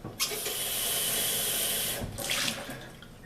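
A plastic or glass measuring cup is rinsed under a running kitchen tap, with a steady rush of water for about two seconds, then a short splash and trickle.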